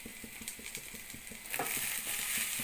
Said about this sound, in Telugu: ఇప్పుడు క్లీన్ చేసుకున్న తోటకూర వేసుకుందాం.